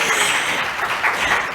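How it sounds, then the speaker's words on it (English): Audience applause for conference panelists, a dense, steady wash of clapping sustained at close range throughout with no voices on top. "How about a round of applause for these panelists?"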